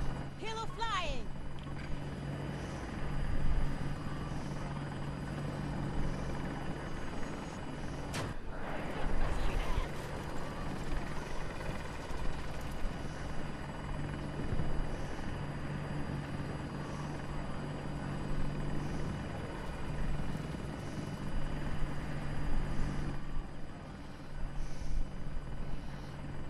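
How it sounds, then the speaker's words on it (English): An enemy helicopter in Battlefield 2042 drones steadily at long distance, with a continuous rotor hum under game effects and voices throughout. "Hostile helo located. Long distance. Helo flying."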